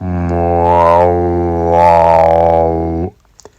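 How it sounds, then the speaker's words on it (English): A single sustained yoga opening chant, prayer-like, held steady and close for about three seconds, then silence with a couple of faint clicks. "You start off with an opening chant, similar to a prayer."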